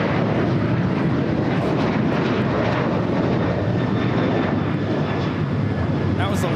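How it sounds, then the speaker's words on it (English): An Alaska Airlines Boeing 737-800 takes off at LAX. The jet engine roar is loud and continuous throughout, with a broad, steady rush of thrust and no break. "That was Alaska Airlines Flight 6 taking off to Washington Reagan National on the 737-800"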